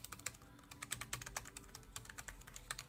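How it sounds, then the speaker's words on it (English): Quick keystrokes tapping on an iClever portable folding keyboard paired with an iPhone, a steady irregular patter of light, close clicks with no talking. "And just go ahead and do a little typing."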